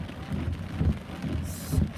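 Steady rain falls in Los Angeles, a dense, even patter on surfaces that carries on for the whole stretch, close and fairly loud, with low rumbling underneath and no voices.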